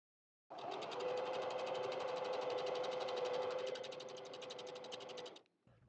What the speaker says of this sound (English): I sew everything together.